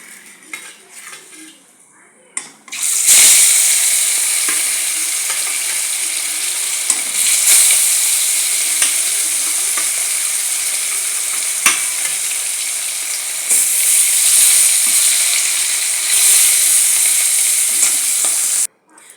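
Katla fish frying in hot oil in a pan, a dense, loud sizzle that bursts in after a quiet opening and holds steady throughout, with occasional clinks of a utensil against the pan.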